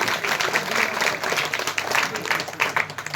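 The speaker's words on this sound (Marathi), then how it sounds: "एकदा त्यांच्यासाठी जोरदार टाळ्या वाजवा" An audience at a devotional cow-story sermon gives loud, sustained applause: dense, continuous clapping from many hands with no break.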